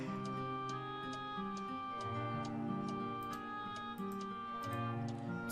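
A clock ticks in the Nancy Drew game Curse of Blackmoor Manor, a steady tick-tock repeating evenly over a continuous musical background, with no talking.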